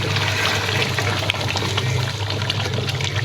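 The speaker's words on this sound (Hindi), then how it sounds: "गुलनाज को उसमें पानी भर दो, ये पीछे रखो।" Water runs steadily into a container in a home kitchen during chicken karahi cooking, a continuous close splashing fill with no talk.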